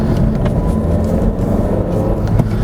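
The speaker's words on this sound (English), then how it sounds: "So we'll take the car for a brief drive on this back road here" A 2016+ Honda Civic fitted with an upgraded rear sway bar drives along a back road, giving a loud, steady low engine and road rumble from inside the cabin, with faint knocks and no talking.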